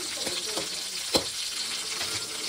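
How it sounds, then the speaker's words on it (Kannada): Green chillies frying in a pan for street-style egg fried rice give a steady, close hiss of sizzling oil, with a few soft stirring scrapes and one sharp clatter midway. "ನೆಕ್ಸ್ಟ್ ಮೆಣಸಿನ್ಕಾಯಿ. ತುಂಬ ಫ್ರೈ ಆಗೋದು ಬಿಡಬೇಡಿ"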